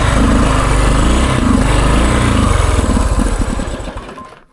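A 50-year-old Honda enduro motorcycle engine runs steadily and loud close by, a buzzing, chugging drone that holds throughout and fades slightly at the end.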